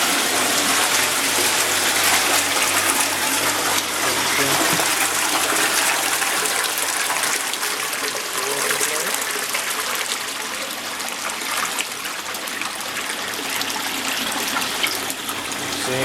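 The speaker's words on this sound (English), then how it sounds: "See, pump's taking water out of there." An Evolution Aqua Nexus 310 aquarium filter pump pushing water, a steady broadband rush and gurgle with faint mechanical rattling, continuous and close for the whole stretch with no talking.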